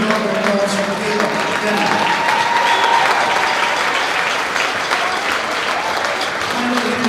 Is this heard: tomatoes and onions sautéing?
no